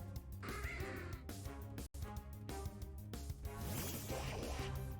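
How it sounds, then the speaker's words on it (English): A crow caws several times in the middle distance over steady background game music, the calls clear but partly blended with the busy backdrop. "Oh, crow."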